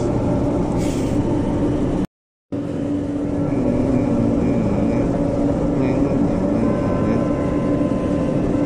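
Steady low rumble and rattle of a moving MRT metro train approaching Ortigas Station, continuous and fairly loud, with a brief cut of silence partway through.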